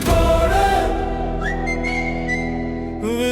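Loud melodic whistling rides over the music of a Tamil party song for the TVK political party, sustained tones gliding up and holding across the passage.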